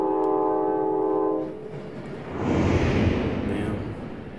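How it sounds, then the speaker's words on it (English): In a video game, a train sounds a steady, loud, tonal horn for about a second and a half, then a rushing rumble of the rolling train follows, with no talk over it. "I really love being on the train, though."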